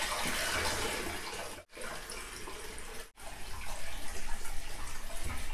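Rushing, gurgling water drains from a bath after the drain plug is pulled, a loud continuous splash broken by two brief silent gaps.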